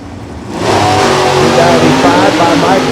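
A Mopar 340 Duster drag race car at the strip, its engine rising into a loud, sustained rev that fills the clip after a brief quieter start, with a voice talking over it.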